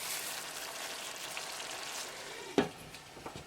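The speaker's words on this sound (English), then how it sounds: "Cooking on a simmer for 3 minutes with the cover lid" Chicken tikka curry cooking on a gas flame in a pan, a soft steady sizzle and bubbling hiss, faint and close, with one brief clack partway through.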